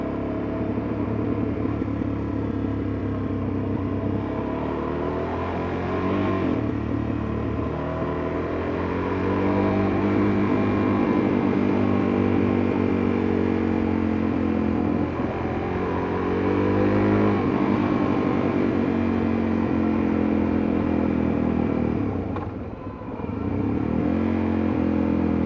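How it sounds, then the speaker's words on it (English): A motorcycle engine rumbles and revs steadily while descending a mountain road, a loud continuous drone with shifting pitch as the throttle changes, and no distinct backfire pops standing out. "just going to kick back and enjoy the sounds of backfire"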